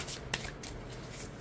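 Overhand shuffling of an oracle card deck with a matte, slightly clumping finish, giving a steady papery riffle of cards with a few sharper slaps, close and fairly quiet with no talking.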